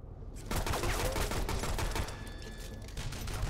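A turret opens fire in the side-scrolling action game Shadow Complex, unleashing a rapid, sustained burst of automatic shots that starts abruptly and rattles on steadily for about three seconds.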